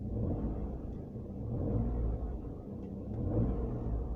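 A Maruti Celerio three-cylinder engine revs up to around 2000 RPM, a low rumbling drone that swells and eases in two broad surges, heard from inside the car with no one speaking.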